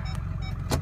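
A 2002 Ford F250's parking sensors give a short electronic beep over the low rumble of the idling truck, one brief tone near the end of the moment.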